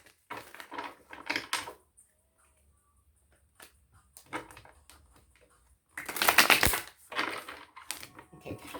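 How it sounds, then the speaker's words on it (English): Tarot cards shuffled by hand in two bursts of crisp riffling and flapping, a short one near the start and a louder, denser one later, with quiet gaps between. "let us pull some tarot cards and see what the messages are for you"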